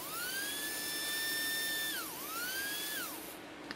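A small HO-scale slot car chassis motor runs on a bench power supply at about 9 volts, a thin high electric whine that sags briefly in pitch and rises again, steady and close with no talk.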